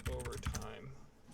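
A computer keyboard being typed on, a quick burst of several close keystrokes in the first half second, then fading into room tone.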